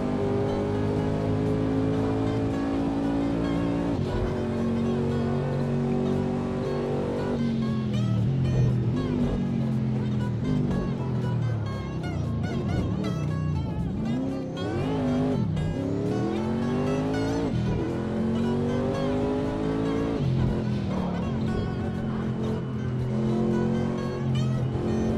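Group C race car at Monza in a racing video game, engine screaming through gear changes and downshifts with tyre squeal as the front tyres lock under braking, loud and continuous.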